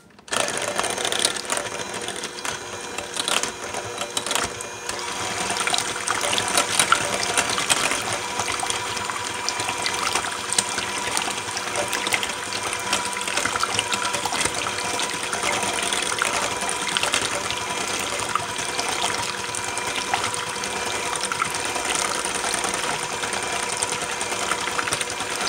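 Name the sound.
mixing whipped cocoa butter body butter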